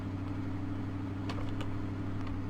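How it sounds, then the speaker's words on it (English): A Ford F-150 truck engine in Farming Simulator 2013 runs at a steady idle, a continuous low rumble held close and even for the whole stretch, with no voices over it. "This is the Ford Mustang engine, it sounds like in here."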